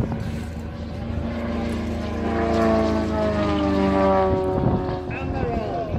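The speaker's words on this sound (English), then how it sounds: "flying that aeroplane from out there on the runway" A propeller aeroplane performs at an airshow, its engine drone shifting in pitch as it passes, with a commentator talking over the sound throughout.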